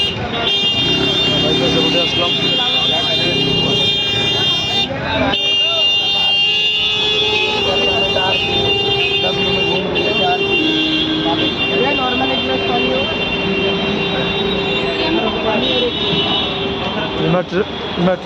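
Busy main road traffic in Delhi, a loud dense roar with sustained horn tones and buzzing engines, people talking over it throughout.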